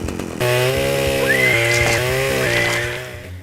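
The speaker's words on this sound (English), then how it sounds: "take out the Cerberus guards with Pigsy's chainsaw" A chainsaw in a video game, wielded by Pigsy against guards, idles briefly and then revs into a loud, close, sustained buzzing whine that rises and dips in pitch before trailing off.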